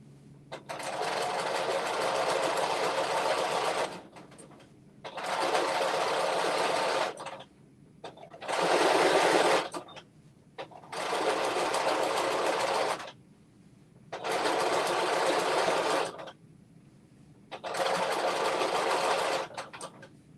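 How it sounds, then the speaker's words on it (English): A sewing machine runs in six even bursts of a few seconds each with short pauses between, stitching the closing seam of a waistband on an infinity wrap dress, loud and close with no talking. "you have to do this finishing stitch when you're stitching the waistband, closing up the waistband"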